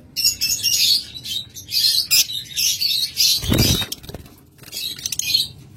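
A pair of pet budgerigars chirps in a cage nearby with rapid, bright bursts of tweeting. A brief flutter of wings is heard partway through.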